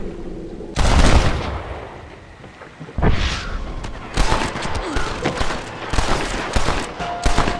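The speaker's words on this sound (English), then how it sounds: "They're shooting down on us!" Enemy gunfire in the Red Dead Redemption video game: loud bursts of shots, a heavy volley near the start then repeated cracks and rattling fire, with shouting voices mixed in.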